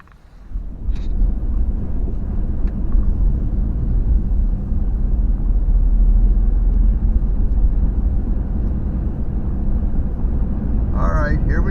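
An RV rolls down a highway, Route 22 in West Virginia, with a steady low engine and road rumble throughout and wind buffeting, loud and continuous from inside the cab.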